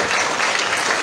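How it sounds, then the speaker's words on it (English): Applause from a gathered congregation at a church carol service, a dense steady patter of many hands clapping at once, fairly close and loud, filling the whole short moment without any talk over it. "Can we give everybody a round of applause?"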